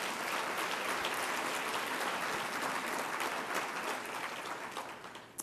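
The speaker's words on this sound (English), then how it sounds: "Give them a round of applause" Steady, dense applause from the audience at an executive awards event, sustained at an even level across the room before tapering slightly at the end.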